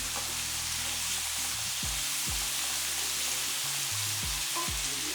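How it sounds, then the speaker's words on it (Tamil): Masala sautéing in a pan for a bitter gourd and mochai tamarind curry, giving a steady soft sizzle with occasional stirring scrapes and clinks, close and fairly quiet. "இந்த மசாலாவையும் நல்லா வதக்கிக்கலாம்."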